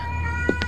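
A brief cat meow from the horror video game Erie, two short mews heard over a steady humming tonal game background.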